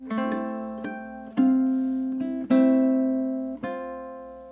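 Bell-like ukulele harmonics ring out one after another, chiming tones over a low note, played slowly and cleanly with no talking.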